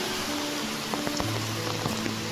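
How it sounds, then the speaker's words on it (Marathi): Heavy monsoon rain in the Konkan countryside sends water rushing downhill, a steady broadband wash of flowing water and rainfall with faint scattered knocks, continuous and fairly loud without any voices. "एवढं सारं पाणी चाललंय खाली."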